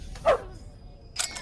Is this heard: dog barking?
yes